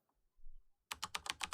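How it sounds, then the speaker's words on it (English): Typing on a computer keyboard, a quick run of sharp, close key clicks in a steady rhythm following a soft low rustle, with no voices. "clicked at the rudimentary letters on the keyboard, typing"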